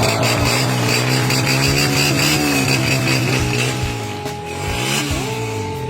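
A Honda TMX 125 Alpha motorcycle with a Yutaka power pipe exhaust revs loudly up close, its engine note climbing and dropping through several throttle blips before settling toward a steadier idle.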